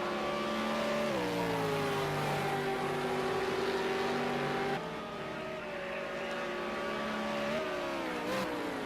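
V8 Supercars roar down the straight at Ruapuna Park. Loud, close engine drone with rising and falling pitch shifts as the cars pass, continuous and with no talk.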